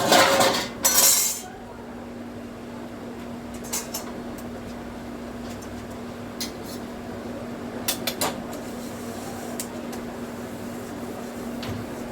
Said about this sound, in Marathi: दोन तीन भांडे होते एवढे घासून घेते